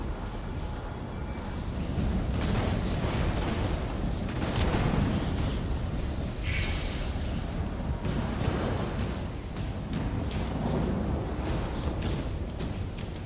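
Thunder from a lightning storm in The Elder Scrolls Online rolls and booms, a dense, loud rumble sustained for several seconds with crackling bursts and no speech over it.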